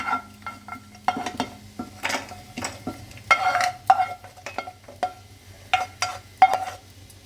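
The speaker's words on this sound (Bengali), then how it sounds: "একটু নাড়াচাড়া করে নিই, বেশি ভাজবো না" A spoon stirs food in ghee in a pan while cooking rava kesari halwa, giving soft, close metallic scrapes and clinks in uneven bursts over a faint sizzle, with no talking.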